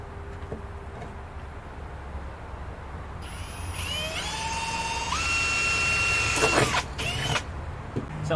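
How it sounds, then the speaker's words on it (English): A small hole is drilled into the back of a recycled plastic plant pot for a wall planter, the drill's rising whine starting partway through and building to a loud, steady pitch before cutting off abruptly. "we've also got to just drill a little tiny hole in the back of the pot"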